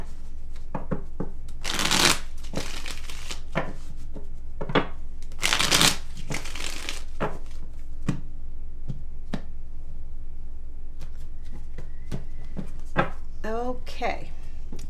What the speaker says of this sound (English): Let me just shuffle the cards first.